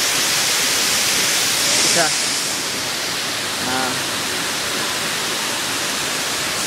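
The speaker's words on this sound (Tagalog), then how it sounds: "nandito tayo sa Flying Falls" The Flying Falls waterfall in Antipolo pours with a loud, steady hiss of falling water, and a voice speaks briefly over it.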